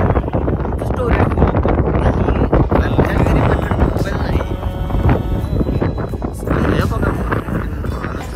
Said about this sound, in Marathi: मला माहित नाही माझा आवाज तुम्हाला येते का नाही कारण ते खूप वारा आहे